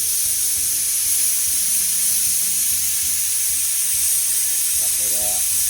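Hilsa fish frying in a pan gives off a loud, continuous close-up sizzle, with a faint voice briefly heard near the end.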